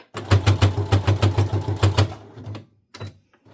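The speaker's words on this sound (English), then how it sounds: "this is going to be loud, it's going to boom, boom, boom, because it's a lot of layers for this little machine." A Brother CS7000X sewing machine punches through thick layers of fabric, a loud, steady rapid thumping of about a dozen regular strokes lasting two seconds, then stopping, followed by a couple of faint mechanical clicks.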